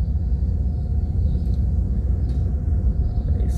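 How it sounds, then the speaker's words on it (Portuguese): Street traffic of cars and motorcycles in the Monte Líbano neighbourhood of Rondonópolis, Mato Grosso, a steady low rumble of engines close by throughout, with faint higher whines from passing vehicles. "Gente, vocês perdoam o barulho, tá? Que barulho vai ter mesmo. Muito carro,"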